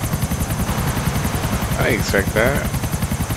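A helicopter in GTA 4 drones with a steady rotor chop and engine hum throughout, loud and close, while someone speaks briefly over it.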